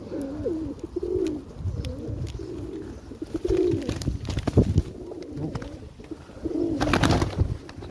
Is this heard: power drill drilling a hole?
no